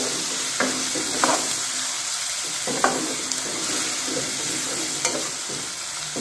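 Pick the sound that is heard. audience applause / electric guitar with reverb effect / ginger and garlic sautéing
ginger and garlic sautéing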